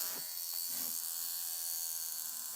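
A cricket-style alarm on a wristwatch buzzes steadily and insect-like for the whole stretch, a high continuous chirring that stays fairly even and close, with no talking over it.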